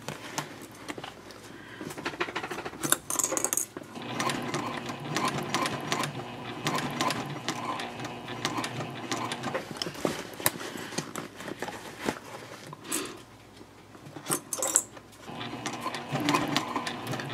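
A domestic sewing machine stitching through the thick layers of a bowler bag, with short bursts of rapid mechanical whirring broken by pauses, handling clicks and fabric shuffling, fairly close.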